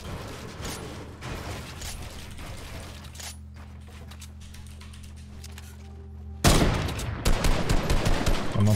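Gunfire in the Fortnite video game, sounding as rapid bursts of shots at the start and again loudly near the end, with mechanical clicking and a steady hum in between.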